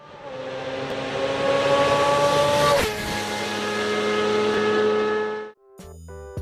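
A motorcycle engine revs through its exhaust in a steady high drone that shifts pitch partway through, loud and close, before cutting off into a brief burst of other sounds.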